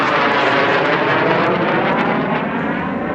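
A jet aircraft at an airshow sweeps past at high speed, about 170 to 180 knots, pulling tight: a loud, steady broadband roar that fills the whole stretch without letup.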